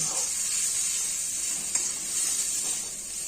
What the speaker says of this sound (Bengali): যখন মশলা নিজে নিজে এইভাবে সরতে শুরু করবে, মশলাও ভাজা হয়ে গেছে, অর্থাৎ তেলও ঠিক আছে